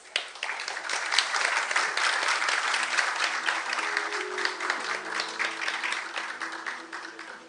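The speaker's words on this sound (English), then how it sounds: "Please give him a warm round of applause." A conference audience at a world congress opening ceremony in Seoul claps steadily for an arriving speaker, a dense, sustained round of applause that swells quickly and tapers off near the end.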